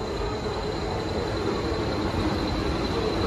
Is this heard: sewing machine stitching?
no